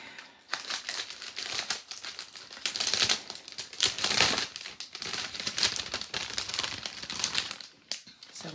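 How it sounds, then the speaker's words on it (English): A plastic packaging bag holding embroidery threads from a stamped cross stitch kit crinkles close up, in irregular rustling bursts of varying loudness throughout. "Sorry for the crinkling."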